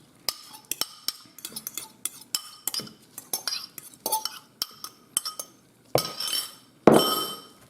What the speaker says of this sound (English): I'm just going to add the egg and cream corn mixture to the dry ingredients.